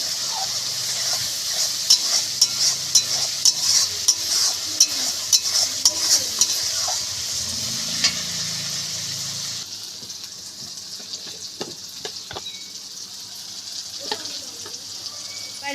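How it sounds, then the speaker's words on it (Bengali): Steady sizzle of onions and tomatoes frying with turmeric in a pan, with repeated scraping knocks of a spoon stirring for the first half, then quieter frying hiss. "হলুদ দিয়ে ভালো করে নাড়িয়ে নেব, যাতে পেঁয়াজ আর টমেটোর গায়ে"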